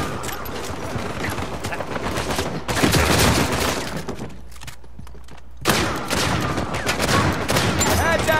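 Pistol fire crackles in dense, rapid volleys during Uncharted 4 multiplayer, loud and close, broken by a brief quieter gap before the shooting resumes.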